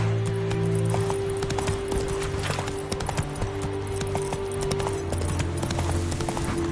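Roach the horse gallops in The Witcher 3: Wild Hunt, a steady clip-clop of hooves running close and loud over a continuous game soundtrack and ambient drone.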